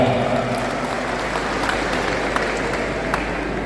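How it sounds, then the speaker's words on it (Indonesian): Applause from an audience at a declaration gathering of student-union alumni and youth groups in Yogyakarta, a steady dense wash of clapping that holds at a constant level throughout with no break. "Berikan tepuk tangan yang meriah."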